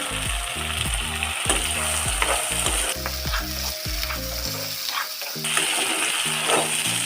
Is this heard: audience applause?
no